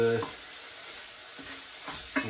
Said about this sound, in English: You only need to cook it for a few minutes, the meat, just till it's browned